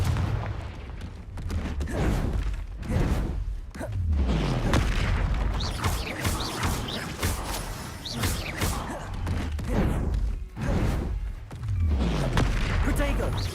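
Confringo fire spell explosions in the video game Hogwarts Legacy, heard as a series of heavy booming blasts and thuds over dense battle noise, with a voice speaking at times.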